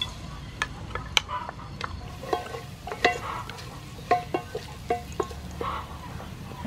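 Chopped garlic frying in soybean oil for a fish sour soup, a steady low sizzle broken by repeated close clicks and scrapes of stirring, with no talk.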